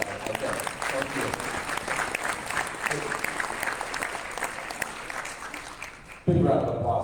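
Panel audience at a conference breaks into sustained applause for the panelists, a dense steady wash of clapping throughout, cut off abruptly as a close voice begins speaking at the end.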